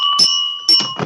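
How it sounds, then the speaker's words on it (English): The Rotary club bell is struck at the start of a Rotary Club of London meeting held online, giving two bright metallic rings with a sustained humming tone between, close and loud, with some clattering handling noise. "ringing of the club bell."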